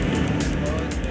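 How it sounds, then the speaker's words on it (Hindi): A vehicle engine drones steadily as it drives along a rocky, stony mountain road in the hills of Upper Siang, with rough low rumble throughout the short stretch and no talk. "गाड़ी का आवाज़ आ रहा होगा"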